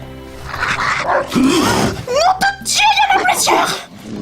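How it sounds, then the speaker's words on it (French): A vicious growling and roaring snarl from a vampire lapdog, loud and close, with rising, wavering tones in a rough, continuous burst. "C'est Foupette. Le plus beau spécimen de l'escadron de chiens de salon vampires que vous m'avez commandé"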